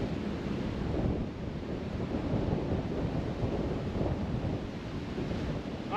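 Steady wind buffets the microphone on a golf course, a constant loud rushing roar that fills all six seconds with no voices.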